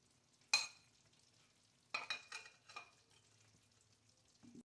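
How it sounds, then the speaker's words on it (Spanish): Mahi mahi fillets simmering in green sauce topped with onion rings, covered on low heat; a soft, steady sizzle runs under a few sharp clatters of a lid or utensil, close and quiet, with no voices. "Echamos la rueda de cebolla y tapamos y a fuego lento la dejamos cocinar con la salsa."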